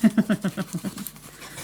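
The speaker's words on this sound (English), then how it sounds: "Don't know where they are barking for." Dogs bark in a quick run of about a dozen evenly spaced yelps at a moderate distance. The barks grow fainter and more ragged until they trail off, and no one speaks over them.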